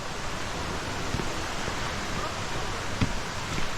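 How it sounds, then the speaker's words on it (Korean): Rushing mountain stream water in Jomunhak valley near Hwaaksan, a dense, steady broadband roar that stays constant and close throughout the short stretch, with no voices. "물소리 들어보십시오. 수량이 아주 엄청납니다."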